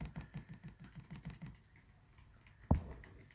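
A run of light, rapid tapping clicks close up on a loose, faulty Dell XPS 15 9500 laptop trackpad, about a dozen soft taps, then a pause and one sharper, louder click.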